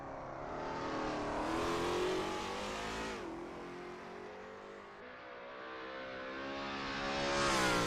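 Lola T70 MkII Spyder race car engine on a practice lap at Sebring in a racing video game, a loud revving roar that climbs, drops sharply at a gear change, then builds again.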